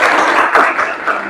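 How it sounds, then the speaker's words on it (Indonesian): A classroom group applauds together in a short, dense burst of clapping, fairly loud and close, with a few voices mixed in. "Tepuk tangan untuk kita semua."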